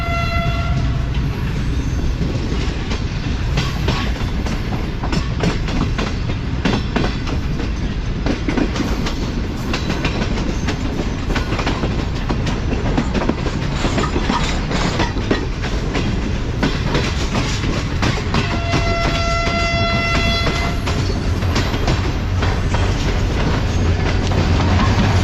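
Shalimar Express sleeper train rolling past near Nawabshah railway station, continuous loud wheel rumble and rhythmic clatter for the whole stretch, with horn blasts sounding near the start and again toward the end.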